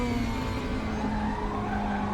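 A 2020 DTM race car in the RaceRoom racing game holds a steady, loud engine drone with a sustained tonal whine and faint tire noise, continuous and close with no talking.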